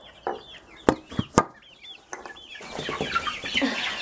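Backyard chickens and a rooster cluck in short, choppy bursts close by, with scattered sharp clicks and scuffling, then a busier stretch of overlapping clucks and soft calls from the flock.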